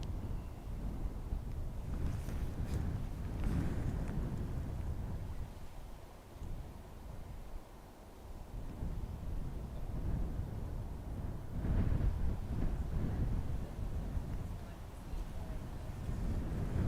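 Strong wind gusting up to 31 knots at Dublin Airport, buffeting the microphone with a continuous low roaring rumble that surges and eases in gusts, loudest near the start and again toward the end.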